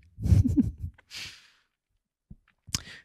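A long, breathy yawn with a voiced stretch, then a soft sighing exhale, a brief pause, and a couple of faint clicks and breaths near the end.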